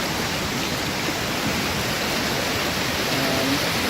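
Waterfall at Economy Falls heard from its base, a constant broadband rush of falling water filling the clip evenly, close and unbroken, with no voices.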